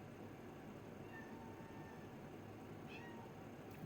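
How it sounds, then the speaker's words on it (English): A house cat meows faintly a couple of times, distant and brief, against a steady background hiss. "my kitty wants something"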